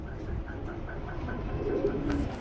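Large show pigeons on a breeding farm coo in a soft, steady series of repeated calls close by, over low background noise.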